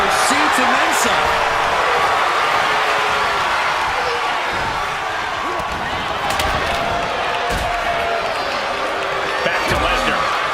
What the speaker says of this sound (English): And a live crowd doesn't get any hotter than this.